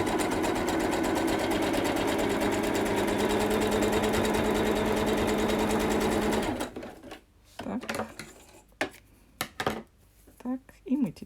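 A sewing machine hums in a loud, steady run while sewing a seam on children's pantaloons, then stops, leaving fabric handling and someone speaking.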